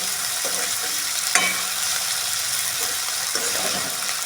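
Onion softening in a karahi after a spoonful of salt goes in, giving a steady soft sizzle and fry hiss throughout, with a couple of brief stirring scrapes and clinks near the start and end.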